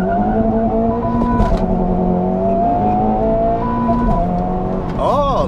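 A 2023 Honda Civic Type R accelerates hard, its engine note climbing through the gears in loud rising sweeps with brief drops at each shift, heard close from inside the car.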